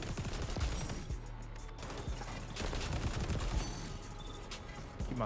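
Rapid-fire weapon in the XDefiant video game, Highwaymen faction: continuous dense crackling gunfire runs throughout, steady and moderately loud, mixed with busy game sounds and no talk.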